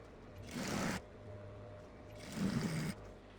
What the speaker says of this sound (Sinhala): ඊට පස්සේ අපි මේ සයිඩ් එකත් මහනවා.